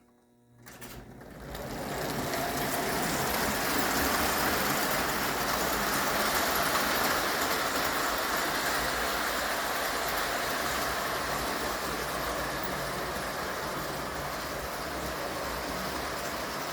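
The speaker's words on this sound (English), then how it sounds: "an early freight, a 1900 turn-of-the-century freight train" A 1 gauge model freight train in turn-of-the-century American style runs on homemade track, its steady rolling clatter starting abruptly and continuing close and even throughout, with no talking.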